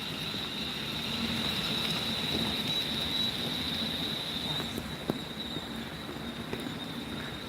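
Rain falling at Rugeley Trent Valley railway station, a steady close wash of patter on surfaces that holds even throughout, with a faint high tone running under it and a few scattered knocks.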